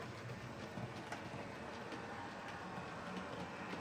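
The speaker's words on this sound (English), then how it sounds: "Just run some trains." Continuous low rumble with faint clicking of small model trains running steadily on a layout track, quiet and even throughout with no voices.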